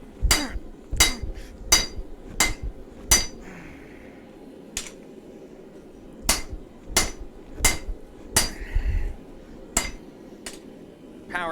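A chef knife blade is forged by hand with a hammer: about a dozen loud, ringing metal strikes land in uneven bursts, separated by short quiet pauses.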